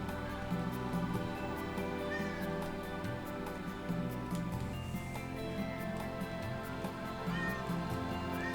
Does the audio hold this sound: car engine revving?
no